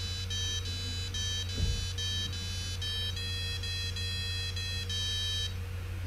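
A Sharp PC-1500 pocket computer plays a chiptune as a run of bright, piercing electronic beep notes in a regular rhythm, fairly faint over a low steady hum, ending abruptly.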